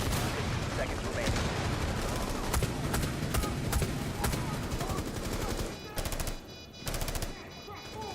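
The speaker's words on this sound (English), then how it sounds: "firing where I can't see, just hoping I'm hitting the enemies" Rapid bursts of automatic gunfire from a tactical shooter game, Rainbow Six Siege, fill the scene with dense, continuous volleys and sharp single shots, then fall into brief gaps before the firing resumes.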